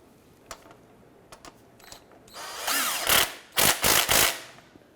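Power tool driving the harmonic balancer bolt on a 2009-2015 Honda Pilot, first a few light clicks and then loud close-up bursts of whirring and hammering that stop and start in several short runs.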